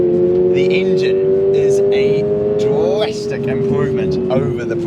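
A 2025 Subaru BRZ sports car in track mode pulls hard on a road, its engine note climbing steadily through the revs in a loud, close drone, with a voice talking over it throughout.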